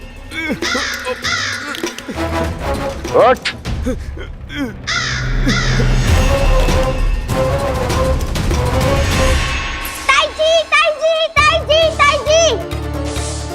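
Crow cawing, several loud harsh caws at the start and a rapid burst of repeated caws near the end, amid a busy animated scene with a voice, crashing effects and music.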